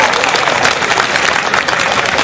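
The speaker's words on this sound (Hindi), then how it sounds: "तालियां बजा दो यार एक बार" An audience at a Hindi poetry recital bursts into loud, dense applause that holds steady and continuous from start to finish, crowding out any other sound.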